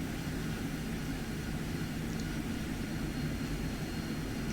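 An AV-8B Harrier jet engine roars steadily and loudly throughout a vertical landing in the DCS World flight simulator, a constant broadband rumble with no talk over it.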